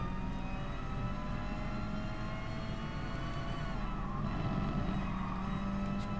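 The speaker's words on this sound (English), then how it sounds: "That's a major military helicopter going over." A large military helicopter flies overhead, giving a continuous low droning rumble with a steady whine on top. It stays fairly faint and even throughout, with no speech.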